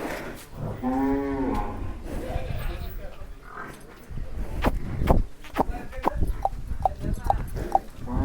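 A pregnant Murrah buffalo lets out a deep, drawn-out moo close by on a farm, followed by someone talking and shuffling, hoof-like knocks.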